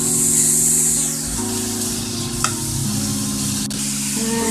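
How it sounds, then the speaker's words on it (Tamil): Onions sautéing in hot oil for street-side masala puri, a loud, close, continuous sizzle with stirring scrapes and one brief sharp clink partway through. "எண்ணெய் சூடாகிட்டு நம்ம வெங்காயம் கொஞ்சம் சேர்த்துக்கலாம். லைட்டாக வதக்கிக்கணும்"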